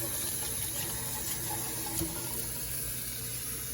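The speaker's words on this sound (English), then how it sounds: "You go over to the sink. Cold water." Cold water runs steadily from a sink tap into a rice cooker's inner container of rice, a continuous close splashing flow with no voices.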